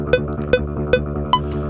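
A guitar part transposed down an octave to stand in for a bass plays four evenly spaced plucked notes with a low, droning sustain and no talk.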